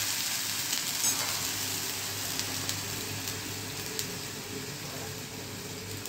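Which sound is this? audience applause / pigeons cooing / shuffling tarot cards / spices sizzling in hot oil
spices sizzling in hot oil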